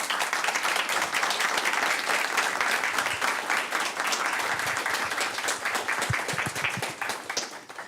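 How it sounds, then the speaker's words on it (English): A round of applause from an audience at an academic talk, thick continuous clapping at a steady level that tapers slightly near the end. "So maybe a round of applause for all of them."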